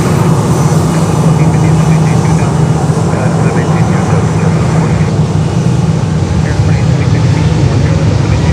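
An airplane at Fort Lauderdale airport gives a loud, continuous engine roar and drone that holds steady throughout, with voices talking under the noise.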